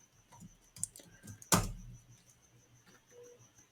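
Computer keyboard tapped while writing code, sparse soft clicks with one sharp louder keystroke midway, quiet and close, no talk.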